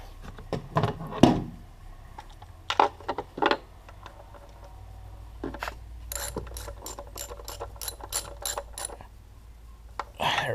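A ratchet turns a nut down on top of an ignition coil on a Chrysler 4.7L V8 engine, heard as bursts of close, rapid clicking with pauses and a few metallic knocks in between.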